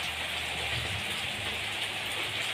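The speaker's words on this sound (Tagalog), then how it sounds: "Medyo umuulan na." Rain falls steadily as a constant dense hiss of drops, with no talking.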